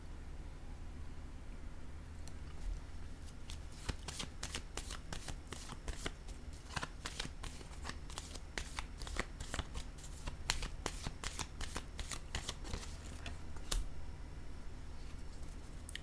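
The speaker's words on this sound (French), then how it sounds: "Je vais déposer une carte sur le visage." Playing cards being shuffled and laid down during a tarot-style reading, a steady run of crisp riffling snaps and soft slaps, close and fairly quiet, with no talk over them.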